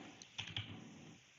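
Typing on a computer keyboard to enter a command gives a few quick, soft key taps, close and quiet, all within about a second.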